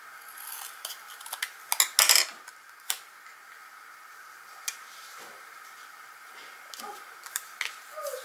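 Scissors cutting a paper tree shape for a handmade card, a quiet series of sharp snips and clicks, with a quick cluster early on and sparse single cuts after that.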